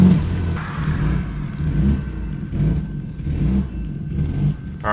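A Ford EF XR6 engine misfires and runs rough on three cylinders, giving a close, steady, low rumble that surges and sags unevenly, with no talking.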